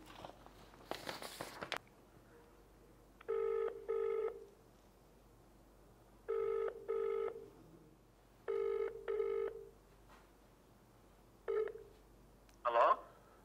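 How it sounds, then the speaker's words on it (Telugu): Telephone rings for an outgoing call: after a brief burst of noise, repeated double-burst ring tones sound at steady intervals, clear and moderately loud, ending with a short click as the line connects. "సో ఆయనకు ఒకసారి కాల్ చేద్దాం."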